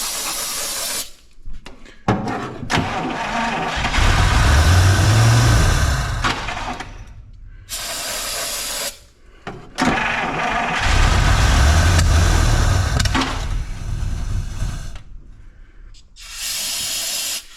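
A 1953 Buick engine running after a fuel system restoration, loud and rough in two long bursts separated by near-silent pauses, with hissing, sputtering noise over a low rumble.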